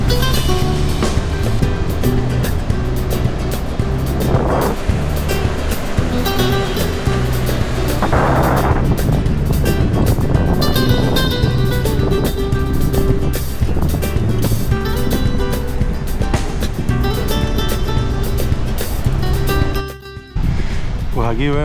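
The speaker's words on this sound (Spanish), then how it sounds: "Pues aquí vemos esta playita bella, hermosa, con mucho viento" Strong wind sweeps across a beach at Punta Prima, Menorca, a loud, constant rushing roar buffeting close by with surf beneath it, while a person talks over the noise.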